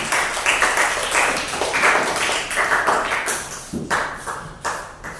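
Applause from a university class in Makassar after a student group's presentation, a steady wash of many hands clapping at close range, continuing without a break for several seconds.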